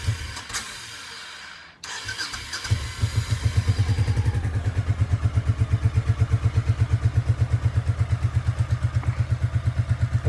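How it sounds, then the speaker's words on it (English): A Honda Shadow Sabre 1100 motorcycle engine cranks briefly, catches and settles into a steady, loud, rhythmic idle with an even lumpy pulse, heard close up and alone. "It's a running bike."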